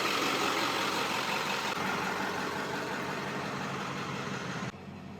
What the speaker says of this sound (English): So I'm running the truck. You can probably hear that outside.